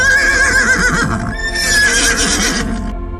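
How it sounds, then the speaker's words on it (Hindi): A horse neighs in a long, loud whinny with wavering pitch that rises and falls, close up and alone, with faint hoof clops underneath. "लांतो के घोड़ा"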